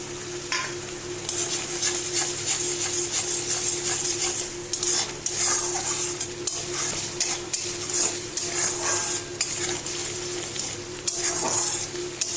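Spice paste for pea ghugni sizzles in oil in a pan while a spoon stirs and scrapes through it repeatedly, a steady close frying hiss broken by irregular clinks and scrapes, with no talking.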